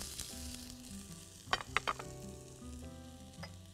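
Onion frying in butter in a pan with a soft, steady sizzle, interrupted by several sharp clicks of a spoon or spatula against the pan, no voices.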